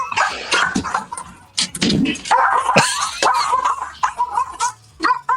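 Three pet dogs barking excitedly in repeated sharp, loud bursts close by, overlapping with whimpers and some human laughter.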